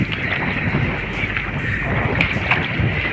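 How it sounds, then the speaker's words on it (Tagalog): Strong outdoor wind buffets the microphone in a continuous, loud rushing roar with gusty fluctuations throughout. "sobra talagang lakas ng hangin dito sa amin"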